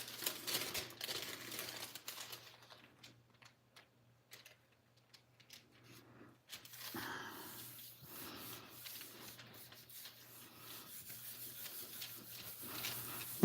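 Paper rubbed by hand against a Gelli printing plate coated with clear medium, a steady close scratchy rasp that pauses briefly midway and then resumes, continuing throughout with no talking.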